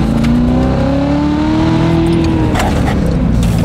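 A Chevrolet Corvette C7 Z06 powers through a corner, its loud engine revving with a rising, sweeping pitch and steady roar, close and dominant throughout.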